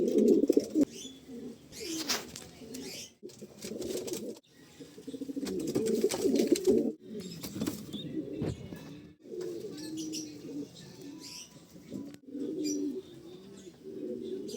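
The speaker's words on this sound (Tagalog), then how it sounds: "papakita ko sa inyo guys yung pinaka-favorite ko na kalapati sa lahat" A pigeon coos close by in repeated low, throaty, rolling phrases separated by short pauses, with faint chirps and rustling in the background.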